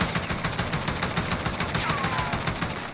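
ASH-12 .50 caliber bullpup rifle firing full-auto in Call of Duty: Modern Warfare, a rapid, evenly spaced burst of loud gunshots running continuously without pause.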